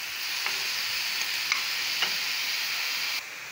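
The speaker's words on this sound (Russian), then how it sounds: "Добавили морковь. И пассируем вместе с луком." Grated carrot and onion sauté in a frying pan for a meatless cabbage soup, giving a steady, close sizzle with a few light clicks of stirring and no talking.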